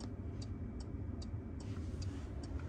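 Hazard lights on a Porsche 992 GT3 tick in a steady, evenly spaced rhythm inside the cabin, faint clicks over a low engine rumble.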